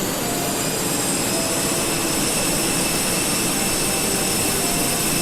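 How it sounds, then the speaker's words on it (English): Airbus A320 jet engine spooling up in the Fenix flight simulator, a steady loud broadband roar with a faint high whine, continuous and close throughout with no talking. "Let's flip our camera so that we can hear the engine start up."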